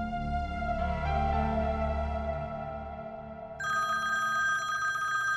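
A telephone rings with a steady electronic ringtone at a household in a domestic drama scene, the tone shifting higher partway through and continuing loud and unbroken over low background music.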